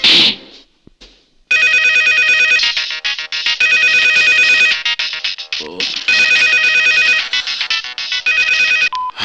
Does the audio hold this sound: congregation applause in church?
no